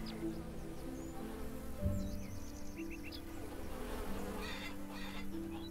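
Bees buzzing in the Farmer's Dynasty farming video game, a faint steady insect drone with a few brief higher buzzes and light ambient game sounds.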